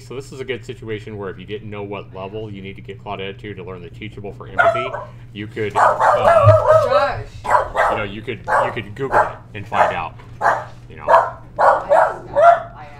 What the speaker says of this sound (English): Anyway, sorry about the barking